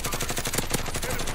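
Rapid automatic gunfire in the video game Warzone, a fast, steady burst of close, loud shots in even rhythm with no talking.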